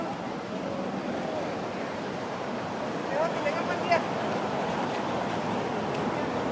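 Soft, continuous wash of waves on a shore at Mazatlan, Mexico, a steady broadband hiss with faint brief sounds rising briefly in the middle.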